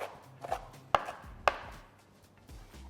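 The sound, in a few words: chopping mint, parsley and dill herbs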